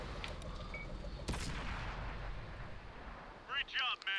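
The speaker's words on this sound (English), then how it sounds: "artillery hits him" Artillery shells slam into an enemy tank in World of Tanks on Xbox One, a loud impact burst in the middle of a rumbling battle with gunfire, followed by brief muffled talk.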